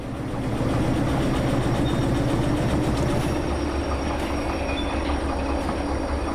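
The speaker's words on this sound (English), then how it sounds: "We'll just push those carriages with their brakes on, it seems fair." Steady rumbling train noise with rhythmic clatter of rail carriages rolling with their brakes on in the video game Trans Siberian Railway Simulator, continuous and fairly loud throughout, no voices.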